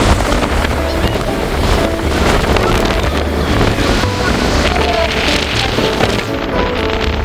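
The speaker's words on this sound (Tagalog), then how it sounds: "Grabe yung hangin." Strong wind roars across a boat out at sea, a dense, steady rush with buffeting on the microphone and the churn of water and engine beneath, continuing without a break.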